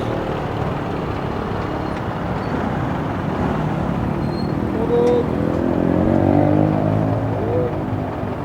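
Road traffic in the Philippines, a continuous loud rumble of cars and motorcycles with engines swelling as vehicles pass close by.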